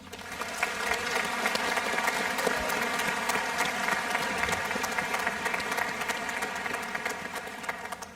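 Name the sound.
audience applause at commencement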